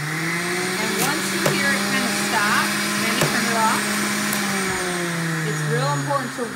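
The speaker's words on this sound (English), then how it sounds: "wait till the juicer stops spinning before you take the lid off and put more fruit or vegetables in" A juicer spins steadily while beets are juiced, giving a continuous motor whine with a few sharp knocks and a slight drop near the end, heard up close under some talking.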